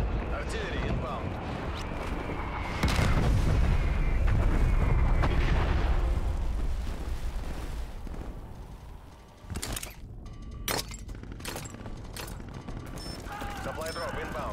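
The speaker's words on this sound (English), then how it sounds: "Hostile artillery targeting active. Artillery inbound." Booming artillery strikes and blasts in the video game Cold Warz, a heavy rumbling barrage that swells loudest early on, then thins into scattered sharp bangs, with a game voice announcing over the din.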